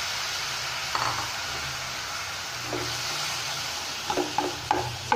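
Boiled cassava pieces tossed into a hot pan and stirred, giving a steady low sizzle with a few sharp scraping clicks from the utensil near the end, no voices present.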